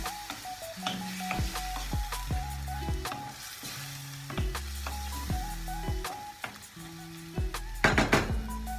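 Chilies hit a hot frying pan for lemon pepper chicken, giving a steady sizzle with clinks and scrapes of stirring and utensils against the pan, close and moderately loud.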